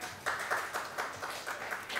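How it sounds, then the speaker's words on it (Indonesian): Audience clapping at a combat-sport weigh-in and press conference, a faint, steady patter of hands with soft rhythmic bursts, somewhat distant. "boleh tepuk tangan"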